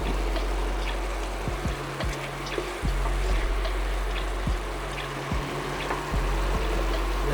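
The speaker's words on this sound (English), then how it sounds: "You see how it's bubbling there in the center?" Rustic Bolognese sauce with chicken stock about to go in, bubbling in a pot: soft, irregular pops and gurgles over a steady low simmer, close and fairly quiet, with no talking.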